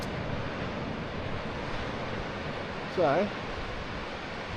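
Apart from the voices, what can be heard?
waves on a beach with turquoise water in Portland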